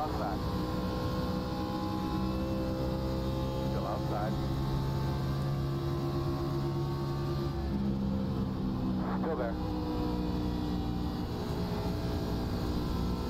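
A steady NASCAR Xfinity race car engine drone in iRacing at Atlanta Motor Speedway hums throughout at moderate level, with a few brief clicks and blips over it.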